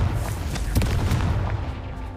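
Blasting spell explosions from the Confringo charm in the video game Hogwarts Legacy, a dense run of booming bursts layered over a steady low rumble, with sharper impacts popping out near the middle.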